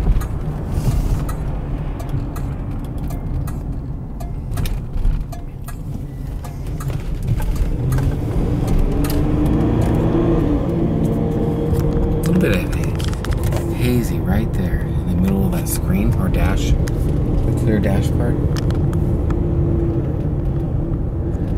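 A 1997 Oldsmobile Aurora sport sedan with a 4.0L Northstar V8 accelerates on a test drive, its engine rumble building under steady road noise from inside the cabin while someone talks.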